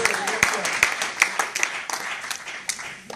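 A church congregation applauds in sharp, rhythmic claps, loud and close, with voices mixed in among the clapping.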